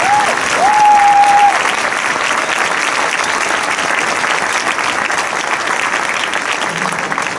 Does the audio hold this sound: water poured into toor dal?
no